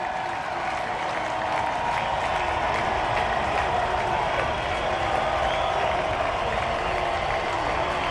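Loud stadium crowd at a Ball State vs Western Kentucky football game on third down and ten, a dense, continuous roar of noise and clapping that fills the whole stretch without easing.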